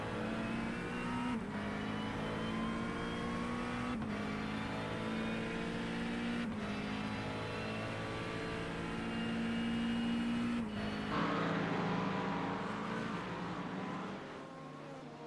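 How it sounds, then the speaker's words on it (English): Race cars at Daytona International Speedway in a racing video game, a McLaren among them, engines droning and shifting gears in steady whines that rise and fall, with brief braking and a surge of revving near the end; no talk. "Callum mega on the brakes there in the McLaren"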